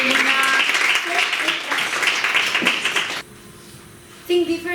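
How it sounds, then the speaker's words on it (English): Applause from an audience at a secondary school public speaking contest greets a student speaker, a dense, loud wash of clapping that cuts off abruptly, leaving a quiet room with a brief bump near the end. "A great applause for Luna López Muñoz."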